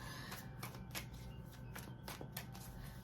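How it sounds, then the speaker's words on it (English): Tarot cards being shuffled by hand, a run of crisp, papery riffles and flicks that repeats steadily for a few seconds at close range. "I'm going to do a couple more shuffles."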